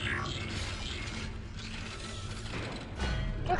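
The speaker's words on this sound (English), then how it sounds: "That's a smooth reload." Weapon reload in Dead Space, a run of mechanical ratcheting clicks and gear-like clatter repeating over several seconds, moderately loud with no speech.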